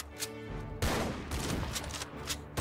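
Rapid bursts of sniper tower gunfire in the Roblox game Tower Defense Simulator, dense overlapping shots that fill most of the moment, loud and close with no talking.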